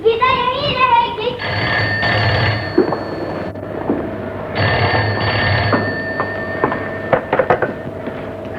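An old telephone bell ringing in a home, loud repeated electric rings in bursts separated by short pauses, with voices talking and someone speaking around the rings.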